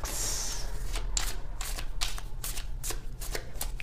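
Tarot cards riffled and shuffled by hand, a run of crisp papery flutters and slaps repeating in quick bursts, close and fairly loud over a low steady background hum.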